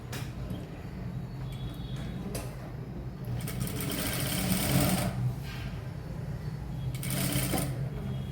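A sewing machine runs steadily, stitching a double-folded fabric hem with a continuous, fairly close mechanical whir that swells slightly in the middle and toward the end, with no talking.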